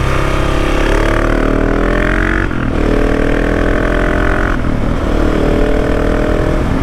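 A 2019 KTM 690 SMC R single-cylinder motorcycle fitted with a Wings aftermarket exhaust silencer, revving loudly up close in sustained pulls with two brief dips between, its engine note rising and falling and popping on the overrun.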